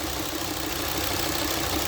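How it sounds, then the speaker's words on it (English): A car engine idles steadily throughout, with the fan running nearby as overheating is diagnosed, a constant mid-pitched hum with slight knocking texture and no talk. "the engine is running, as you can tell"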